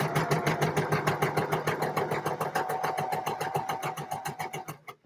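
A sewing machine stitching a trouser inseam: a fast, even mechanical clatter of the needle, close and steady, speeding slightly before slowing and stopping.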